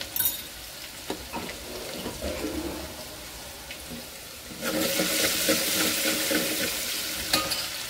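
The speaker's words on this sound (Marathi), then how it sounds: "लसणाला पण छान परतून घ्यायचे" Garlic fries in oil with cumin for a Maharashtrian moong dal, giving a soft, fairly quiet sizzle with stirring clatter. The frying swells louder and brighter partway through and stays at that level to the end.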